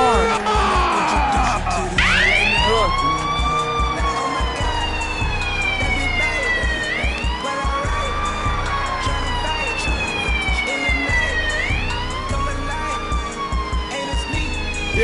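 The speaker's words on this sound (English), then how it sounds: "the ambulance is leaving the arena with Danny Diamond" An ambulance siren wails in loud, repeated rising and falling sweeps as it leaves a wrestling arena, close and continuous, with crowd and voices faintly underneath.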